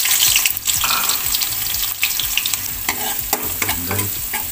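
A second batch of potatoes frying in hot oil for beef kaldereta, with a loud, dense sizzle and a few scraping knocks of a utensil in the pan, close and with no voices.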